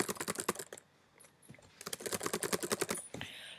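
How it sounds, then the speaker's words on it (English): Rapid keystrokes on a computer keyboard come in two quick bursts separated by a short pause, close and crisp, with a final softer tap. "you can just start typing whatever you wish to type."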